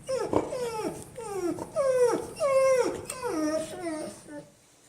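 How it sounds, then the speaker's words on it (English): A pet dog at home vocalises at a neighbour in a rapid series of about eight high, sliding yelps, close and fairly loud. "My dog started barking at the neighbor."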